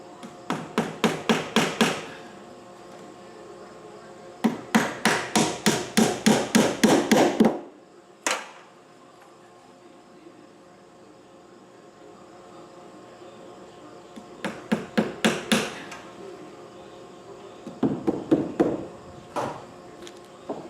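Painted aluminum nails are hammered into vinyl siding on a barn workshop addition in rapid bursts of sharp, ringing taps. The bursts are separated by pauses, loud and close, with no talking.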